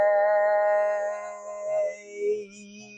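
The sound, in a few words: chakra toning chant, three-part vocal sound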